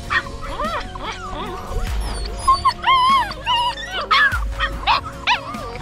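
Puppies at a state-run dog breeding farm yip, bark and whimper repeatedly in short, high-pitched bursts close by, with occasional voices and some handling noise mixed in.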